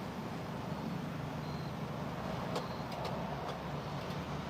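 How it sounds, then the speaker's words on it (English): Steady road traffic heard from a parking lot in Indiana, a low, moderately distant rumble of passing vehicles with a few faint clicks near the end. "Let me know if it's kind of too loud with the traffic and everything."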